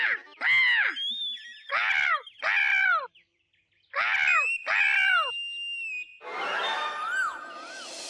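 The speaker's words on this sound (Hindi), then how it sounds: "काले कौवे कोयल को देख रहा है।" A crow caws in harsh, rising-then-falling calls: three in a row, a short pause, then two more. A rough, noisy burst with a thin whistling tone follows at the end. No one speaks.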